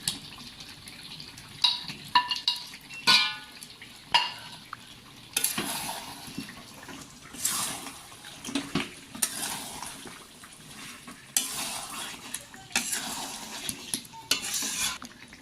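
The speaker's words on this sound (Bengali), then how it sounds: "এখন আমি এর মধ্যে আলুগুলো দিয়ে দেব।" Potatoes stirred into a pot of mutton curry, with repeated scraping and clinking of a spoon against the pot, soft wet stirring and a faint sizzle, close and fairly quiet, no talking.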